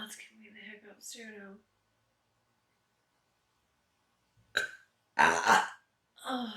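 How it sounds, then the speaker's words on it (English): A woman hiccups and burps, with abrupt throaty bursts near the close-up microphone. A long silence falls between her vocal sounds, and she speaks briefly around them. "it's giving me the hiccups too"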